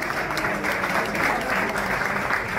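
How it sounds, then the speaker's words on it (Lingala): An audience of guests at an evening event applauds steadily, with a thick, even wash of clapping at moderate loudness and no distinct voices. "est-ce que vous pouvez applaudir pour vous-même, s'il vous plaît?"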